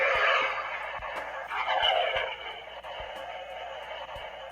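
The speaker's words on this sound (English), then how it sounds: "then you get the rocket thruster sounds" A Star Wars R2-D2 Force Link toy gives off a steady rushing, hissing rocket-thruster effect that swells and fades over a few seconds, close and moderately loud, with faint ticking underneath.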